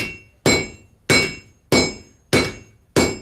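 Steel for a sword is forged on an anvil at a live fundraiser, six loud, ringing hammer blows landing at a steady, measured pace, each strike with a bright metallic clang that decays before the next, no talking.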